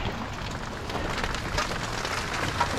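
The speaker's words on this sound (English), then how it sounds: "Comes the rain again." Rain falls steadily outdoors by a dumpster, a dense, even hiss of drops on surfaces, close and continuous with no talk over it.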